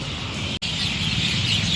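A dense, loud chorus of many birds chirps continuously before dusk in Hua Hin, Thailand, a constant wash of overlapping calls with a brief dropout partway through.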